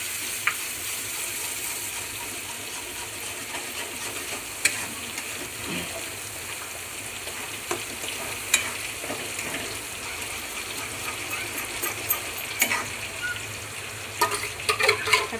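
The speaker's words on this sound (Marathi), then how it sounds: "मग आपल्याला चांगलं तेलामध्ये भाजून घ्यायचं।" Spice paste fries steadily in hot oil for a fish chutney, a constant close sizzle with scattered crackles and occasional scraping clicks of a spoon stirring the pan, no voices.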